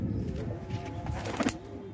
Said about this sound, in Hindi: ये वो बड़ा मखियाला है कबूतर है